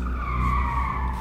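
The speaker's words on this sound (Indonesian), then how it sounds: "Kedengeran suara rem bantu." Motorcycle brakes screech in a loud, sustained high-pitched squeal lasting about a second.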